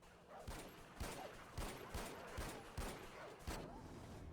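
Gunfire from the video game Far Cry 4 rings out as a series of about seven sharp, evenly spaced shots over a faint steady background.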